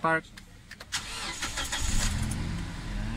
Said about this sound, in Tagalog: Start natin sir para matesting yung RPM.